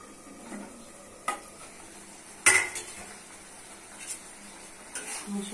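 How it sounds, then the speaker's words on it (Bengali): A spoon stirs masoor dal frying with mashed potato in a pot, producing a few scattered clinks and scrapes over a faint, steady background, with no talk. "মসুর ডাল দিয়ে ভালো করে কষতে হবে"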